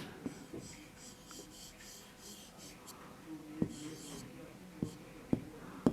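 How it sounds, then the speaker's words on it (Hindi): A pen writes the Urdu word sanjida on paper in soft, scratchy strokes punctuated by a few sharp little taps, close up, with faint breathing and murmured voice underneath. "फिर संजीदा लिखते हैं"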